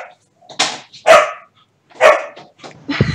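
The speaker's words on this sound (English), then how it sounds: "you're all hearing my barking dogs" Dogs barking at home during an online tabletop game session, several sharp, loud barks in quick uneven bursts close by, with short quiet gaps between them.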